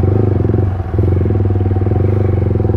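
A Yamaha R15 V3 single-cylinder motorcycle with an aftermarket exhaust idles and revs close by, giving a deep, loud, rapid thumping burble with a brief dip in the middle.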